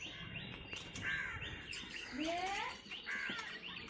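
Small birds chirp and tweet close by at a sunny spot where quail and chickens are kept. The calls come in repeated bright bursts over a faint, steady background.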